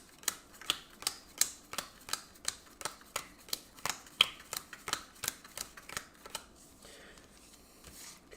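Cards shuffle in the video game Legacy of Yu as a steady series of sharp, evenly spaced clicks, about two per second, close and moderately quiet, fading out near the end without talk.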